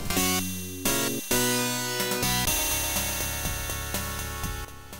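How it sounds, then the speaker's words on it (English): Wacky Wheels PC kart racing game music plays, a dense synthesized track with a bright, piercing repeated ping riding over steady bass and chords, loud and continuous for several seconds with no talking. "I freaking hate the pinging sound in the music"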